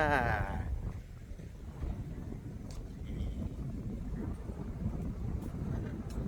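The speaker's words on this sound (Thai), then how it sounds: "ลมลมแบบลมแรงมากครับ ลมแรงมากเลย" Strong wind near the Red Bridge in Samut Sakhon buffets the microphone in a continuous low, rumbling roar, with a brief voice at the start.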